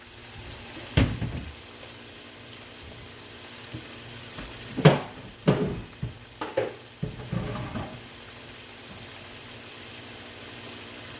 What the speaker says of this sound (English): it's simmering really nicely